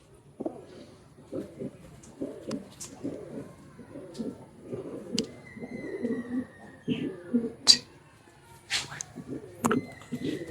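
Madrasi and Andhra pigeons at a full loft in Budge Budge, South 24 Parganas, give rolling, repeated coos close by, punctuated by sharp chirps and clicks.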